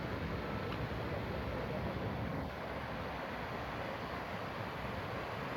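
A waterfall in a Japanese garden sends out a loud, continuous rush of falling water that fills the whole stretch without pause.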